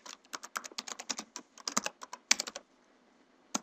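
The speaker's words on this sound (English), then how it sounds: "So just type it." Close, crisp keystrokes on a computer keyboard, a quick burst of typing followed by a pause and a couple of final taps.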